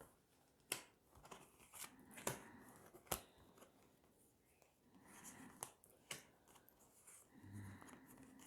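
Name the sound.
drawing tarot cards from a deck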